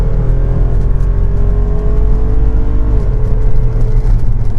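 A 2022 Jeep Wrangler Rubicon 392 with a naturally aspirated V8 rumbles loud and close, its deep engine tone rising and holding in a strong rev.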